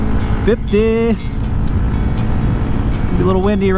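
Loud, steady wind buffeting while riding a Honda Grom motorcycle through light traffic, a constant low roar throughout with a voice speaking briefly over it near the start and end.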